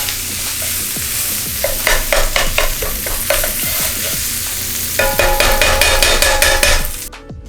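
Lamb, onion, green onion and aromatics stir-frying in a pan: a loud, steady sizzle with repeated scraping and clacking of a spatula against the pan, with no voices.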